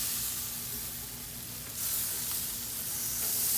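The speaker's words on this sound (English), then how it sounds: "You can hear it searing." Steak searing on a hot grill gives a steady, broad sizzle and hiss that carries on unbroken, close but moderately quiet, with no talking over it.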